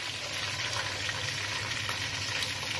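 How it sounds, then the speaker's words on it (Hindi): Two spoonfuls of garlic ginger paste frying in oil, a steady close sizzle with faint stirring, no talking over it. "इसके लिए मैंने ये तेल में 2 चम्मच लहसुन अदरक का पेस्ट डाला है"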